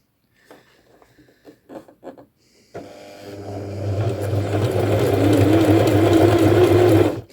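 After a few soft clicks, a sewing machine starts up and runs steadily sewing satin stitch, a close, loud mechanical whir with rapid needle chatter, no voices.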